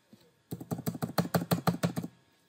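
Commands typed on a computer keyboard, about a dozen crisp, close keystrokes in a quick, fairly even burst lasting under two seconds, alone with no voice.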